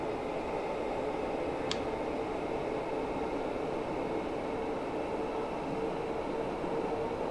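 A 1972 Tube Stock train runs steadily through central London on the Bakerloo Line in Train Sim World 4, a constant rumbling roar with a brief high squeal partway through.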